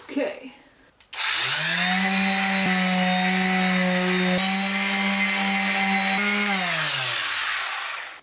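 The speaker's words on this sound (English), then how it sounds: "I have to sand this thing again, and I don't like sanding" A power sander whines steadily against a wooden slide-out table in a van conversion, starting abruptly after brief talk, holding a loud even tone for several seconds, then winding down.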